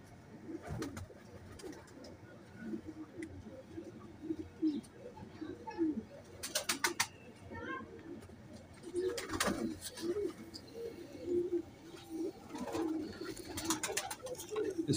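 Sialkoti pigeons cooing, soft low repeated coos close by, interleaved with brief chirps and occasional sharp rattling bursts, faint overall and with no talking.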